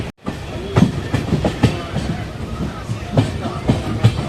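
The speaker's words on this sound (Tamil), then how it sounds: "நம்ம மயிலாடுதுறை ஜங்ஷன்லேருந்து டிபார்ட் ஆகிட்டாங்க." The Mayiladuthurai–Coimbatore Jan Shatabdi Express rolls out of Mayiladuthurai Junction, its wheels clicking rhythmically over rail joints in loud, close clusters of clacks with a rumbling carriage hum underneath.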